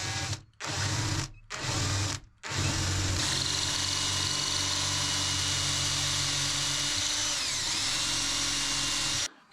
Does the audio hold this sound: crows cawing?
no